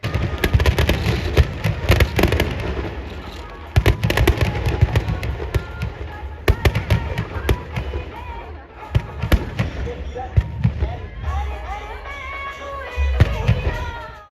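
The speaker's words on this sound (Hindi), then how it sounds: "जैसे ही पटाखे फटना स्टार्ट हुए, क्योंकि उनकी आवाज़ ही इतनी लाउड होती है" Loud firecrackers bursting at a Dussehra effigy burning on an open ground, a dense barrage of sharp bangs and crackles going on without pause, with crowd noise underneath.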